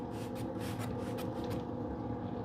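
A cheap plastic spray bottle spritzes apple juice onto pork on a smoker, giving several short hissing squirts in quick succession over a steady low background rumble.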